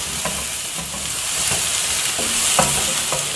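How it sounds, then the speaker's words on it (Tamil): Chopped tomatoes and onions sizzle in a pan for araithu vitta sambar, a steady close frying hiss with soft stirring scrapes and occasional louder crackles, no voices. "தக்காளியும் கொஞ்ச நேரம் நம்ம இப்போ வதக்கணும்."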